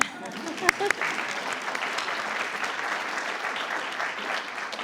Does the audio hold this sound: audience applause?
yes